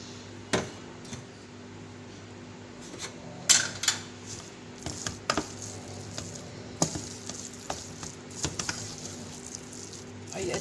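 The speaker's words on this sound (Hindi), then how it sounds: "आलू का भुर्ता जो हमने किया हुआ था इसको डाल देंगे और इसको इस मसाले के साथ अच्छे से मिला लेंगे" Mashed potato bharta being stirred and mixed with masala in a pan, giving soft squishy scrapes and a faint sizzle with intermittent clinks of a spoon against the pan, fairly close and steady.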